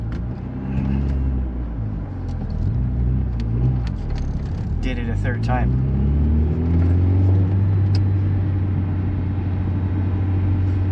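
A third-generation Honda Prelude engine idles while warming up, a steady low rumble with a slight rise in revs partway through, heard close under someone talking.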